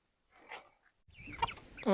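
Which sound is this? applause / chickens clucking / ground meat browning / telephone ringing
chickens clucking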